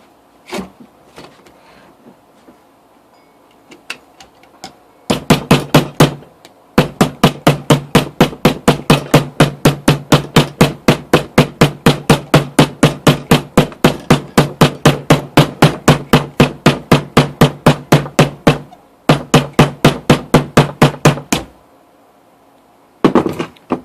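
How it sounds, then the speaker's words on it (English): A hammer strikes a quarter coin being formed into a ring, delivering long runs of rapid, evenly spaced metallic blows, loud and close, with brief pauses between bursts. "banging the hammer will not knock my phone over"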